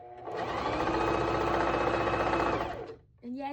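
A sewing machine stitching a scrunchie runs in one steady, close whirring burst for under three seconds, then stops, and a voice follows briefly.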